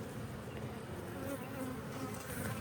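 Honeybees buzzing inside an opened hive with sparse bees and empty comb, a steady close-up hum that stays level throughout with no voices.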